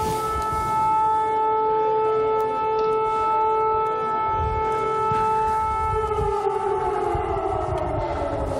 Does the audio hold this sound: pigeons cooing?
no